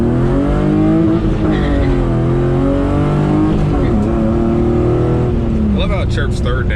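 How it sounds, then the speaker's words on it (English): A BMW E36 sedan with a welded differential and about 160 horsepower revs hard in third gear, its engine note rising steadily before a short tire chirp near the end, loud and close throughout. "I love how it chirps third now."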